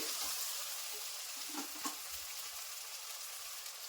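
Tomato pieces frying in oil in a pan while cauliflower biryani is prepared, giving a steady soft sizzle with a few light stirring scrapes near the middle, close and alone.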